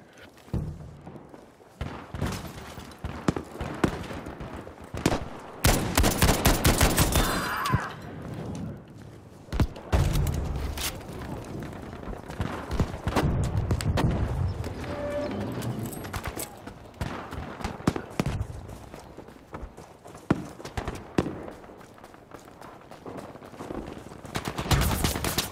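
Gunfire in the video game Battlefield 5, dense bursts of rapid automatic fire and scattered single shots, loud and close, with busy battle noise throughout.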